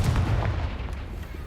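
A Confringo fire spell explodes in Hogwarts Legacy with a deep booming blast up front, then a rumbling tail that fades over about a second and a half, with no speech.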